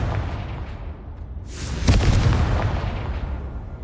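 A Confringo spell blast in Hogwarts Legacy bursts loudly just before the two-second mark, a single broadband boom that rings out and decays into a lingering rumble, with no speech over it.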